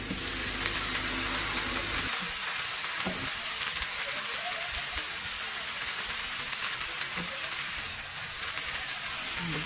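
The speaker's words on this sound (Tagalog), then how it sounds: "Ilagay ko na po yung mahi-mahi na isda." Mahi-mahi fish hits a hot pan and sizzles steadily and loudly, a dense continuous frying hiss that carries on unbroken after an initial heavier burst.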